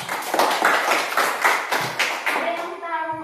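Children in a classroom clap their hands in a brisk, rhythmic burst of several quick rounds, loud and close, fading into a sung or chanted tone at the end.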